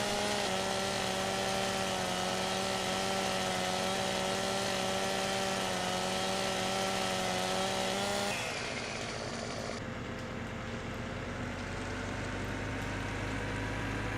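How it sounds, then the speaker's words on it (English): A chainsaw in Farming Simulator 17 cutting acacia trees drones at high revs for several seconds, then the pitch drops as the engine bogs down into a lower, rougher idle-like growl. "I'm just going to cut all the acacia trees with a chainsaw."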